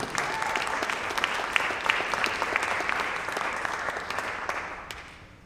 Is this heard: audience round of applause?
yes